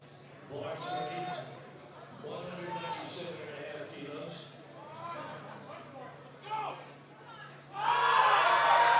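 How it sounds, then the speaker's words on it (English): A crowd cheers and shouts for a lifter at a powerlifting nationals competition in a large hall, voices rising into a loud burst of cheering near the end. "He's got some hype from the crowd behind him."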